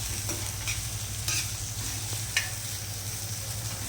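Onions frying in a pan for misal pav, a steady sizzle with a few brief stirring scrapes and clicks from a utensil, close and even, no voices.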